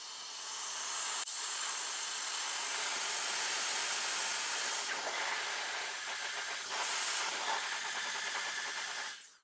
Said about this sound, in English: I just take this, turn it on, and slowly crank it up.